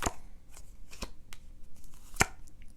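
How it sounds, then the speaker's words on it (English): Tarot cards are shuffled and pulled, giving a few quick, sharp card snaps and riffles spaced apart, fairly quiet and close, with no talking. "let's pull the cards"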